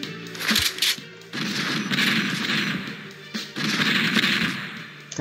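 Rapid bursts of gunfire from the video game Strike Force Heroes 3, loud and sustained in dense volleys with brief gaps, no talk over them.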